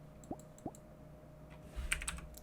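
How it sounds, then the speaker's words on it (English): A few sparse, light keystrokes on a computer keyboard, clicking at irregular intervals close by with quiet gaps between them and no talking. "Keyboard."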